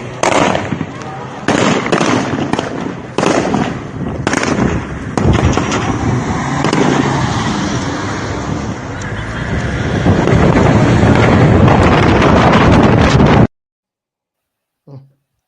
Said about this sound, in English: you can hear explosions, rifle fire, not just handguns, but rifle fire